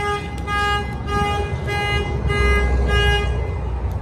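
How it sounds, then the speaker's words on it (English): A Clifford 3105 alarm sounds on a 2020 Ford Transit 250 van in Miami, Florida, with a loud, close, repeating siren whose pulsing tones shift pattern over a few seconds and a low engine rumble beneath. "the alarm will fire off."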